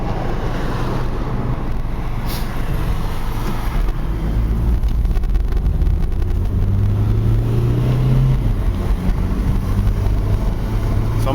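A 1987 Nissan Vanette van engine drones steadily while driving, a continuous low rumble with wind and road noise heard from inside, shifting pitch as it moves along.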